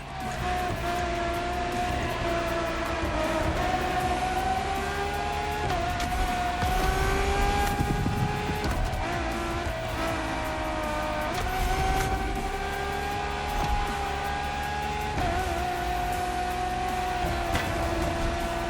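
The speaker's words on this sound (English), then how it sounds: "The strongest naturally aspirated Ferrari V12 to date" A naturally aspirated Ferrari V12 hybrid supercar in the racing game The Crew Motorfest, its engine revving hard and climbing through gears with brief dips at each shift, loud and continuous.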